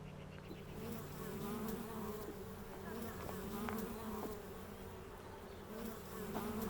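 Bees swarm through a flowering linden tree in the Pays de Fayence countryside, a dense, steady buzzing of many insects close by, with occasional individual bees passing near and no voices.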